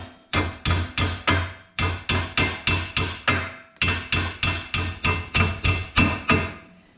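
Hammer taps on a suspension part of a 2011-2019 Ford Fiesta during front wheel bearing and brake work, a close, loud run of about sixteen sharp metallic strikes in a steady rhythm with one brief pause, no talk.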